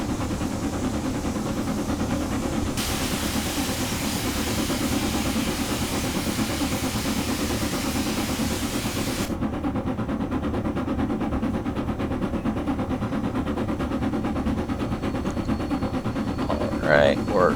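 An LMS Black 5 steam locomotive from Precision Locomotive Developments, driven in a train simulator game, gives a continuous chuffing rumble with a steady hiss. A hiss that had run since the start turns off partway through.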